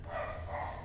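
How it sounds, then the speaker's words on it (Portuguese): A dog barks in a short, close burst of yips against a game's background, a single brief bark cutting through steady ambient hum. "Cachorro latiu."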